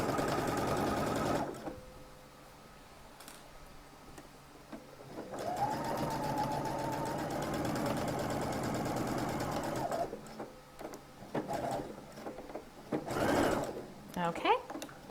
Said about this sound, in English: that's one way to start your top stitching, is just to use a standard foot and just get started